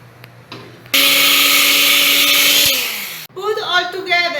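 An electric blender whirring loudly through broccoli and sauce for about two seconds, then stopping, with a voice speaking just after.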